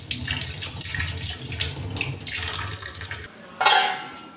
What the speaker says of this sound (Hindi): और फिर मैं अच्छे से धो लेती हूँ 2-3 बार, थोड़ा सा नमक लगा के